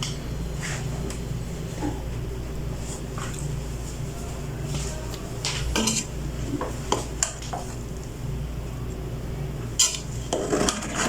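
A metal spoon stirs cooked chicken chana pulao, rice with chicken and chickpeas, in a pot: soft scraping and scattered clinks of utensil on cookware, quiet and close over low kitchen background hum.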